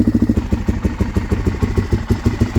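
A Suzuki motorcycle engine with a carburetor and the choke pulled out catches and runs at a fast, loud, close idle, with a steady pulsing chug and clatter.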